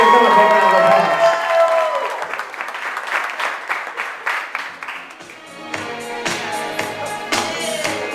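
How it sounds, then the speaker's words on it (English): Wedding reception guests at a navy base officers club in Newport, Rhode Island, break into applause after a voice over music, the clapping scattered at first and then swelling into a fuller round. "Let's give them a big round of applause."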